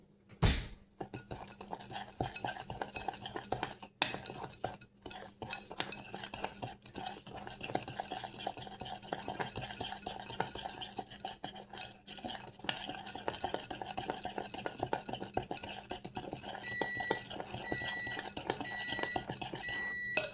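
Churro batter is stirred in a bowl with a utensil, giving steady scraping and clinking that runs throughout at close range, with occasional louder knocks against the bowl.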